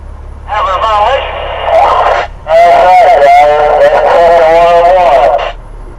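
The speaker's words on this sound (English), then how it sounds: "Turn this radio down, man. That thing is way too loud." Loud radio audio plays inside a truck cab on a congested I-85 night, a voice-like broadcast with harmonic bands filling the cab almost continuously, a steady low engine hum running underneath.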